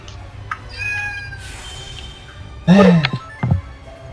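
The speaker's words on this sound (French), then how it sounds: "Ce chat miaule, vient vers moi, remiaule, revient vers moi" A cat meows close by, a couple of clear, fairly loud calls near the end after quieter moments, with faint background sounds throughout.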